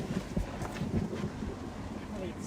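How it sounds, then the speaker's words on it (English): Wind rising ahead of a thunderstorm near Haskell, Texas, a steady broadband rush with low gusty rumble that swells and eases throughout, with faint voices partly under it. "The wind's starting to pick up now."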